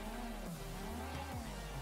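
A car drifts in GTA 5 on Xbox 360, its tires squealing in long sliding tones that bend in pitch over a steady engine drone, loud and close with no talk.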